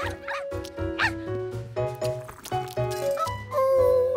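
Cartoon dachshunds yap and bark in short bursts over bright, busy background music, the barks overlapping throughout.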